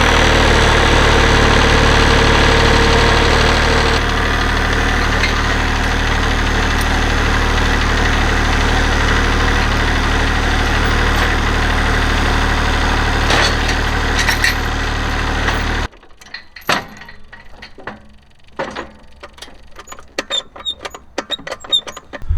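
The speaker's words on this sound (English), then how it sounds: "I might fire up the tractor this morning and it might work perfectly fine" A tractor loader's engine idles loud and steady with a constant rumbling drone for about fifteen seconds, then cuts off, leaving scattered clicks and small knocks.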